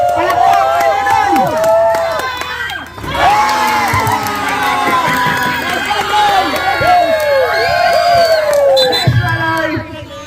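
A lively crowd at a basketball league semifinal cheers and shouts continuously, with excited voices overlapping and scattered clapping throughout.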